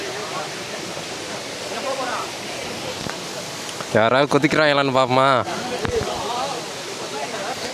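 The Gunung Pulai waterfall in Johor, Malaysia, roars as a steady broadband rush close by, while someone speaks over it in the middle.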